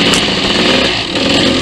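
Loud, close motorcycle engine revving steadily in first gear on an off-road trail ride at Stonyford, a raw buzzing drone with no break through the short stretch.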